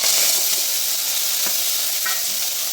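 Curry leaves dropped into hot oil in a pan, giving a loud, dense, continuous sizzling hiss up close that barely varies across the short stretch, with no voices.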